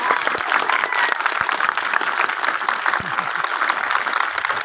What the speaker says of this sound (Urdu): اپنی تالیوں سے جواب دیں مجھے